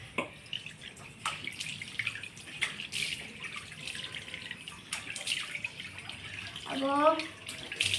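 Water splashing and dripping as a face is washed with face wash, with intermittent close splashes and trickles and a brief word of talk.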